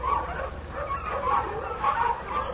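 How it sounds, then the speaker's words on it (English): A pack of hounds bays in the distance, faint wavering cries rising and falling over a low rumbling background, several dogs overlapping. "The baying of a pack of hounds."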